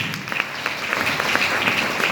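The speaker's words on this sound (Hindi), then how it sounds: "इसके लिए ताली होना चाहिए।" Audience applause during a Hindi health seminar on herbal remedies, a brief, steady burst of many hands clapping at moderate loudness with a few stronger claps standing out.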